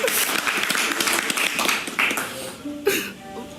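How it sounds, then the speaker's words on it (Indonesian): A small group claps for Aloy at the closing of Marapthon season two, a quick, uneven patter of hands up close that thins out as voices chime in near the end. "Semua tepuk tangan buat Aloy."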